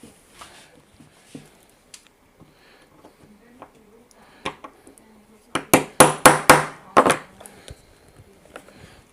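A hammer strikes a grinder's gear to loosen it during a gear replacement, about seven sharp metallic knocks in a quick burst, loud and close, following quieter handling and talk.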